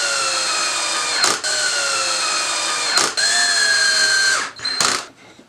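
Power drill driving pocket screws to join wooden wine rack rails to the legs, a loud close high whine sustained in three long runs, each broken by a brief stop, then winding down.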